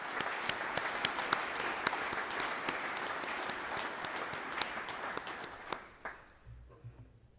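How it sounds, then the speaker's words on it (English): An audience at a graduation ceremony applauds in a hall, steady clapping from many hands that fades out near the end. "Let's give Addison a well-deserved round of applause for her excellent leadership, both in and out of the classroom."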